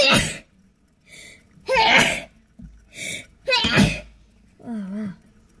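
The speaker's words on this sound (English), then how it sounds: "Oh no, I'm gonna sneeze." A sharp sneeze bursts out amid short spoken exclamations, with a quick breathy buildup and a few brief voice fragments around it.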